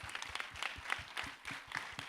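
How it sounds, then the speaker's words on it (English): An SME business event audience in Johor Bahru gives panelists a round of applause, faint and somewhat distant, with uneven clusters of claps. "Please give them a big round of applause"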